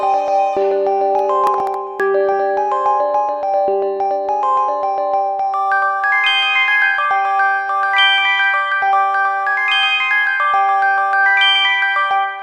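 Bright bells from Xenology play an ethnic melody B section built on about three chords, chiming notes ringing out one after another in a busy, sustained pattern, loud and clear with no voices.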